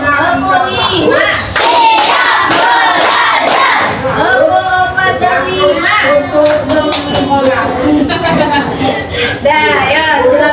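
Schoolchildren in a classroom clap together in a loud, dense burst of rhythmic claps mixed with shouting young voices, the counted clapping game going on continuously throughout.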